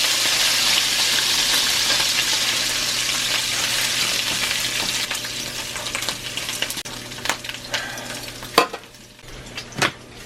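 Bacon sizzles in a cast iron pan with a steady close hiss that thins out, then sharp scrapes and clacks of a utensil against the iron break through toward the end.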